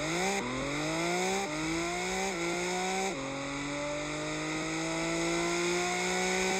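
A race car in the Roblox racing game Wayfort accelerates hard, its engine whine climbing steadily through several gear shifts, loud and continuous without any talk.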